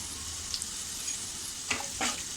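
Mixed masala spices sizzle and fry in hot oil in a pan for a peas and potato curry, giving a steady close hiss broken by a few crackling pops.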